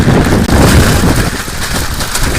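Fierce mountain wind pounds the microphone in a loud, continuous rumbling roar with no pause.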